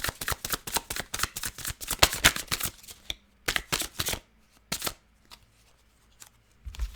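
Tarot cards shuffled close up in quick riffling bursts, with a short pause midway and a few softer shuffles afterward, no voices present.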